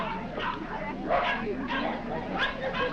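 A Scottish terrier yipping and barking at a dog show, a few close, excited short barks and whimpers under an announcer's voice.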